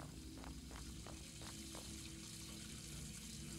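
Water rushing from a water tank in the horror game Graveyard Shift, a steady loud gush with a low drone beneath and a few faint knocking pulses early on.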